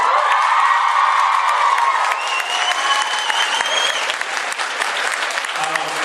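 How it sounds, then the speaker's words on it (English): Convention panel audience at a comic and entertainment expo applauds loudly with cheers and whoops mixed in, a large crowd clapping steadily throughout, with some voices rising above the clapping. "we should give another round of applause because Misha agreed to come here"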